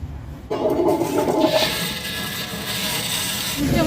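A grinder churns lentils soaked for two hours into hotel-style dosa batter, starting abruptly after half a second and then whirring loud and steady through the rest of the clip with no voices.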